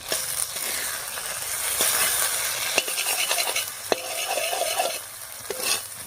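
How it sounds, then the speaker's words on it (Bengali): Egg stirred with potatoes and spices in a hot pan for an egg and eggplant curry gives a steady sizzle and frying hiss. Scattered spatula scrapes and clinks run throughout, close up with no voices. "এবারে নাড়িয়ে দিচ্ছি।"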